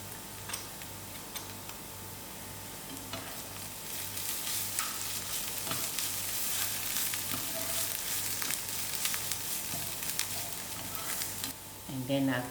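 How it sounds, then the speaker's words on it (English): Italian herbs and garlic frying in a pan for a homemade pizza sauce, a steady soft sizzle with light stirring ticks throughout, and a brief louder clatter near the end. "I'm going to put in my Italian herbs with my garlic to fry a little"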